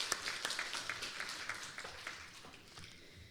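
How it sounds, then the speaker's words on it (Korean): A worship congregation claps in praise to God after a closing prayer, fairly faint rhythmic clapping with distinct individual hits that thins out toward the end. "영광의 박수 하나님께 올려드리겠습니다"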